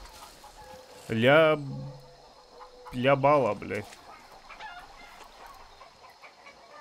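A rooster in Far Cry 6 gives two loud, close, wavering clucking calls about two seconds apart, with faint game ambience and a voice briefly speaking.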